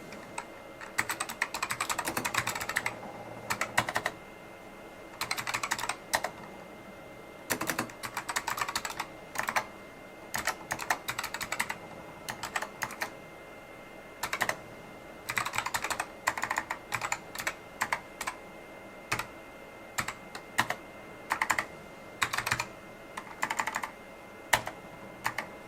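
Keyboard typing on an old PC with an Apple DOS Compatibility Card while a Turbo Pascal program is written: close, steady bursts of keystrokes with short pauses, no voices.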